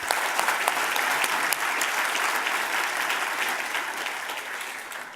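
A roomful of people applauding at a book launch, a thick, even roar of clapping that stays strong for several seconds before easing slightly at the end.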